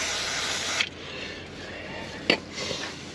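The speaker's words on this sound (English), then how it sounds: "Same again, bit of brake cleaner." Brake cleaner sprayed onto a Range Rover L322 ball joint in two short hissing bursts, close and fairly loud, with a brief pause and a small knock between them.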